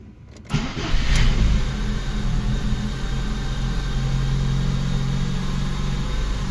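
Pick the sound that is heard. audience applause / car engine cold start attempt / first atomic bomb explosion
car engine cold start attempt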